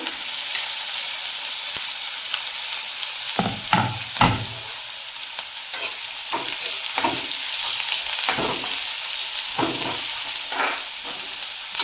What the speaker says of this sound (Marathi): कांदा आपल्याला व्यवस्थित परतून घ्यायचा सोनेरी कलर येईपर्यंत।